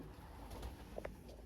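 Young racing pigeons in a loft giving a few soft, close coos against quiet background hiss.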